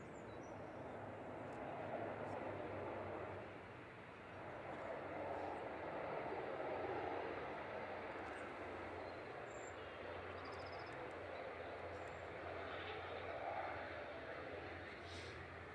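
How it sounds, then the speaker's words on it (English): An Aurigny ATR 72-600 turboprop airliner touches down at Manchester Airport, heard as a distant, steady broadband engine and rolling roar that swells and eases over the runway, with faint background noise. "This is GOA-TR, just touching down there, flight 670 from Guernsey,"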